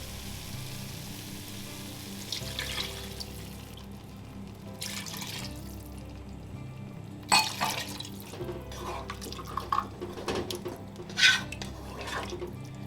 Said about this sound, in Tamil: இப்போ தண்ணி வந்து நம்ம மூணு கப்பு தண்ணி ஆட் பண்ண போகிறோம்